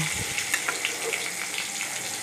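Chopped tomatoes fry in hot oil in a pan for palak paneer, a soft continuous sizzle with a few light stirring scrapes, close and fairly quiet.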